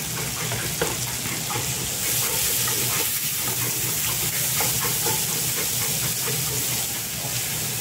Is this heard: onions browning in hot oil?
yes